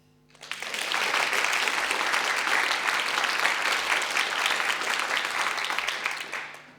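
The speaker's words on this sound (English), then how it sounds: "could you please clap again?" Live studio audience clapping on request for a radio recording, a dense, steady burst of many hands that swells in quickly, holds evenly for several seconds, then tapers off, with no talk over it.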